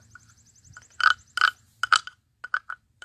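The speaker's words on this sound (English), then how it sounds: "the frog with lines that makes a sound" A spiky, toad-like frog calls in a string of short rasping croaks, several bursts spaced irregularly and fairly close, with a faint low hum beneath and no talking.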